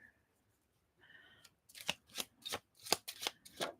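Tarot cards are shuffled close up in a quick series of crisp riffling bursts, following a brief faint tone at the start. No speech.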